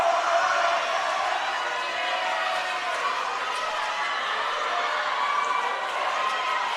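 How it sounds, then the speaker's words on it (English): Spectators at a college 800 freestyle relay swim race roar continuously in a large echoing natatorium, a steady loud wash of crowd noise. "Listen to the roar of that crowd there."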